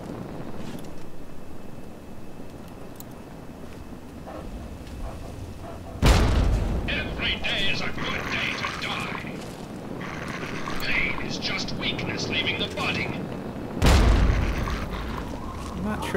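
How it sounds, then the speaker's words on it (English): A frag grenade detonating among super mutants in Fallout 3, two deep booming blasts about eight seconds apart, each followed by rumbling debris, with someone talking throughout. "I'm gonna try actually using the frag grenade"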